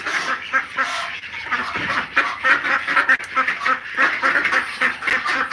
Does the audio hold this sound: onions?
no